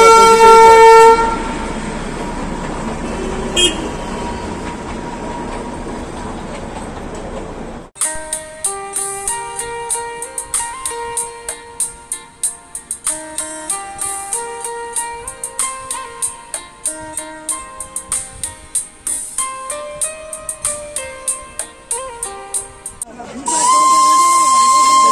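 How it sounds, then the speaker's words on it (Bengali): A Darjeeling Himalayan Railway toy train rolls past close by with a steady, rhythmic clatter of wheels over rail joints. A loud whistle sounds at the very end. "হোমস্টের থেকে বেরিয়েই দেখছি টয় ট্রেন যাচ্ছে।"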